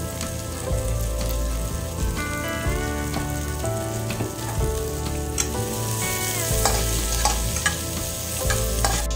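Garlic sizzles and fries in hot oil in a pan for ginataang langka, a steady loud crackle with repeated stirring scrapes, close up and without speech.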